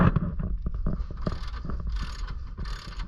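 A ratchet wrench tightens a shock bolt during a Polaris Ranger lift kit install, giving rapid close clicking and mechanical rattles, with some wind buffeting the microphone.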